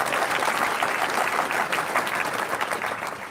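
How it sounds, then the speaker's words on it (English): A room full of audience members at a live debate event applauds the security staff, a thick continuous roar of clapping that holds strong and tapers off slightly at the close. "So let's give them a big round of applause."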